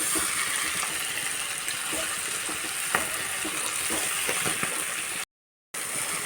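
Green chilli paste sizzles and fries in a pan while being stirred, a steady close crackle with occasional scraping, no voices.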